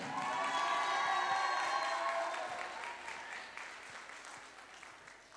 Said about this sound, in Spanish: un aplauso fuerte para todos los profesores de la Alianza Fantasía.